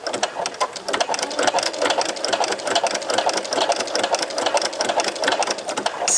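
Sewing machine stitching a T-shirt seam, running steadily in rapid, close mechanical bursts with a dense rattling pulse throughout and no pauses.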